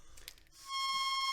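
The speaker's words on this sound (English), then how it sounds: "Ooh, I found your buzzer." A buzzer goes off as a steady electronic tone that starts about halfway through and holds to the end, with faint rustling before it and nobody speaking.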